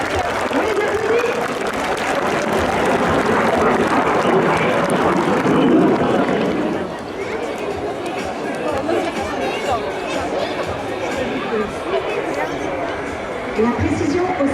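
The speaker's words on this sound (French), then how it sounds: "On les applaudit!" Spectators at the Vendée Air Show applaud and chatter during a Patrouille de France demonstration, a broad outdoor crowd wash that is loud at first and eases after a few seconds, with a commentator talking over it.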